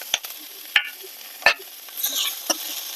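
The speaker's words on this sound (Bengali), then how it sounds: "একটু ভেজে নেব" Cumin paste, turmeric, ginger paste, ground pepper, garam masala, green chilli and salt fry in a pan for prawn malai curry, with a soft sizzle broken by several sharp, close spoon taps against the pan.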